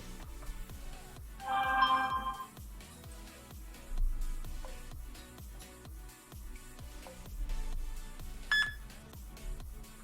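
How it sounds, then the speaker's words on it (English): A short electronic phone app beep chirps briefly over steady rhythmic background music, followed later by a second brief bright tone. "You've never heard a beep before."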